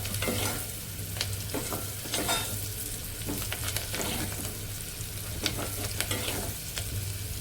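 Ingredients frying in a pan for ridge gourd mutton curry, a steady close sizzle with repeated light scrapes and clicks from stirring throughout.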